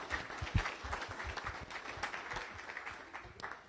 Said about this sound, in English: Please join me in a round of applause for all of our guests and visiting Rotarians